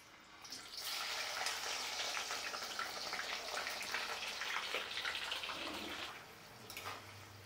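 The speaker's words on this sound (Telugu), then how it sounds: "నూనె ఏడెక్కింది, వేస్తున్నా కాకరకాయ." Hot oil sizzles and crackles steadily as bitter gourd is fried, a continuous bright hiss that fades near the end.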